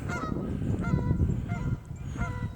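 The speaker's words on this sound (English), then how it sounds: "there's our geese out on the lake" Several geese honk loudly and repeatedly out on a lake, their calls overlapping in a busy, uneven chorus with a brief lull before a few more honks.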